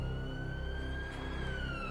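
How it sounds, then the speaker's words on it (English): A steady police siren wails continuously at night, its tone slowly sweeping, heard at moderate distance over a low rumble. "the distant wails of sirens filled the night air, growing louder with each passing moment"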